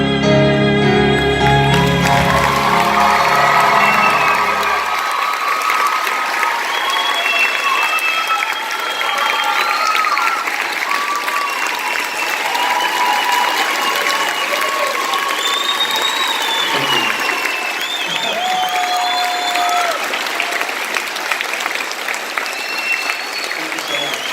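Long, loud applause and cheering from a school audience for the graduating senior class, dense clapping sustained throughout with scattered whoops and shouts, opening under a trailing burst of music.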